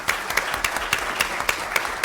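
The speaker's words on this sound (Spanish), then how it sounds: "Un caluroso aplauso a nuestro apreciable magistrado." Audience applause for a magistrate at a panel on electoral justice, rhythmic clapping in even, quick beats that sounds like a unified group clapping in time, moderately loud and with no voices over it.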